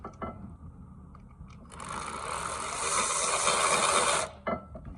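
A ratchet tightening brake caliper bolts on a 2020 Mazda CX-5, a fast, even run of clicking lasting a few seconds, close and fairly loud, bracketed by short bursts of clicks.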